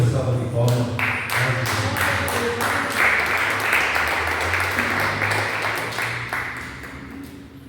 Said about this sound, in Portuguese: dando uma linda salva de palmas